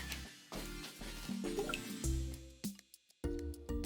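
Oil whisked with food coloring is poured into a container of water, giving soft liquid splashes, drips and trickles in uneven bursts, close and fairly quiet, with a brief hush near the end before the pouring resumes.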